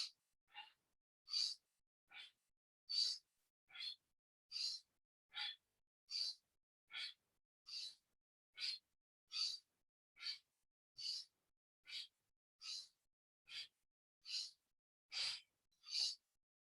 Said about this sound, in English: inhaling and exhaling through the nose